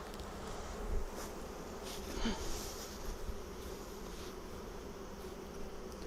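Honey bees buzz around an open Flow Hive Classic with a brood frame exposed, a close, continuous droning hum with a few louder passes near the microphone and no talk.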